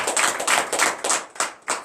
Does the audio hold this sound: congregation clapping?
yes